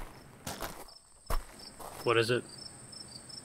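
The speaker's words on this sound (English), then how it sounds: "Oh, the noise? That's just crickets." Crickets chirp in the video game The Forever Winter, a faint high steady trill with brief bursts, heard beneath a short spoken question and a few footstep-like thumps.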